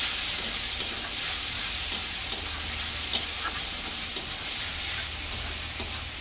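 Spice masala for an egg and soybean curry is stir-fried in a pan, a loud continuous sizzle with rhythmic spatula scrapes and taps close by, no voices.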